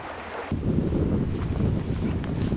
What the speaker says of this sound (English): Scratch audio with tons of wind